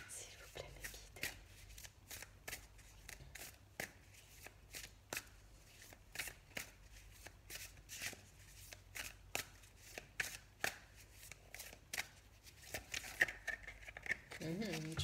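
Cards are shuffled for a card reading, making a run of crisp, rapid riffles and taps that repeat at a quick rhythm close to the microphone, with a soft voice speaking at times.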